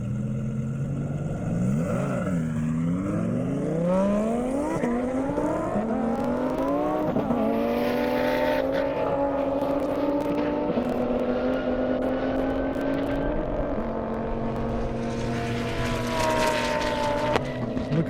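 A race car at an airstrip speed event makes a high-speed run, its engine climbing through rising gear-change sweeps then holding a steady high-pitched drone as it passes at distance.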